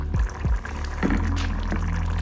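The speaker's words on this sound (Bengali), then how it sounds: "এই পর্যায়ে আমি আমার বুটগুলো দিয়ে দিচ্ছি।" Chickpeas are tipped into a pan of half-cooked spiced potatoes in oil, giving a couple of quick, close drops followed by a loud, steady sizzle and bubbling.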